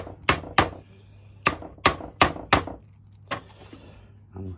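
A hammer taps a part down onto the front subframe of a 1981 Triumph TR7 with new poly bushes, six sharp close metallic knocks in quick pairs and then a softer tap or two, in a quiet workshop.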